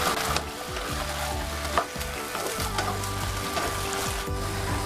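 Mustard greens being stirred in a frying pan with seasoning, giving a steady low sizzle with scraping and clattering stirs throughout, close and moderately loud, no talking.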